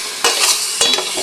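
Black pepper, 30 grams of it, being stirred into a dish in a pan, giving two or three scraping strokes over a steady sizzle, close and loud.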